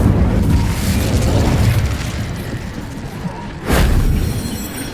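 Incendio fire spell cast in Hogwarts Legacy, loud whooshing fiery bursts with booming rumble, one at the start and another surging a few seconds later.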